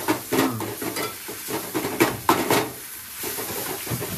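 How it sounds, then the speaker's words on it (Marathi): Coconut masala paste fries in a pan for chicken cutlet and egg curry, giving a soft close sizzle under uneven scraping and stirring with a few metallic taps of a spoon against the pan. "ते वाटण घालायचं मस्तपैकी। चांगलं परतायचं"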